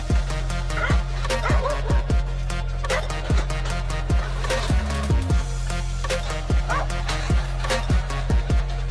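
A pack of nine dogs confronts a snake with rapid, repeated barking and yipping. Sharp, loud barks overlap in quick bursts throughout.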